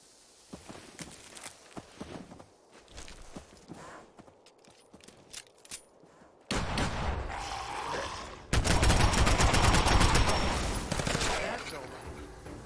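10mm pistol shots in Fallout 4, quick cracks starting faint amid footsteps and scuffling, then a louder stretch of rapid shooting and combat noise toward the end.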